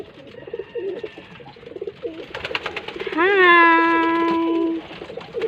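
A pet pigeon of a black and white breed gives one loud, drawn-out coo with a rising start and steady tone, close to the microphone, amid soft background rustle.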